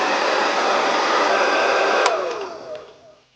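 A hair dryer fitted with a diffuser blows steadily and loudly, close by, while drying hair. Near the end its roar fades as it powers down and whines away to quiet.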